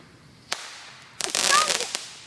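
Fireworks going off nearby outdoors at night, a sharp single crack followed by a louder crackling burst of popping.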